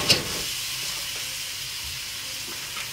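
Ginger and spring onion sizzling in a hot pan give a steady, close hiss that holds evenly throughout, with a brief louder crackle at the very start and no talking.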